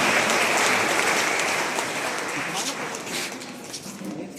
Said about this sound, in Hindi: तो एक बार जोरदार अपने लिए ताली बजाइए।